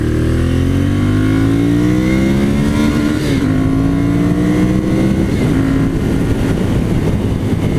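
A 2014 Ducati Monster 796 motorcycle pulls away hard, its engine note climbing steadily through the rev range with a brief dip at a gear change, then rising again, loud and close under steady wind rush.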